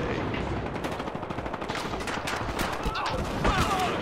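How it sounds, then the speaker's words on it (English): Shotgun and other weapons firing in the online shooter Battlefield Hardline, rapid overlapping gunshots crackling steadily throughout, with a player's voice talking over the fire. "Shot my shotgun, didn't do anything."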